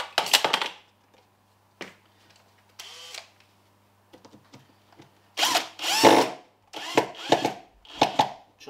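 On a Nauticus 27 ft cruiser boat, a battery-operated power drill whirs in several short, close bursts with quiet gaps between them, ending in a cluster of quick trigger pulls.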